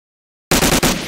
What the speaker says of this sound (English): He's pulling a nade.